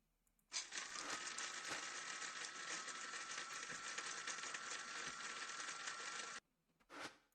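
A grinder machine in modded Minecraft works quartz with a steady mechanical whirring clatter that lasts about six seconds and then stops abruptly, followed by a brief separate click.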